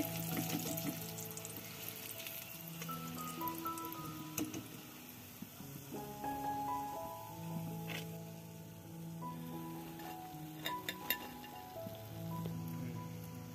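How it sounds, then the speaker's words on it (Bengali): Battered chicken pakoda pieces deep-fry in oil with a faint, continuous bubbling crackle, a few louder pops near the end, all beneath quiet background music. "এখন আমি বাকি চিকেনগুলো একইভাবে ফ্রাই করে নিচ্ছি।"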